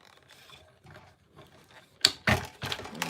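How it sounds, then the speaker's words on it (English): A hand-cranked embellishment die-cutting machine pulls a sandwich of plates and paper through, with quiet rubbing at first and then louder grinding, clunking rolls up close. "Sandwich through the machine."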